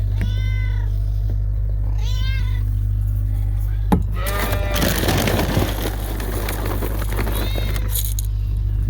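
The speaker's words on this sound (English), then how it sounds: "And the cats want to get fed." Cats on a sheep farm meow repeatedly, waiting to be fed. The calls come close and clear in short bursts over a steady low hum. Rustling and shuffling sounds are heard midway, and a faint voice speaks briefly.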